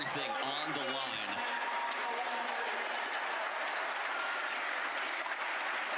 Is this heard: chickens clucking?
no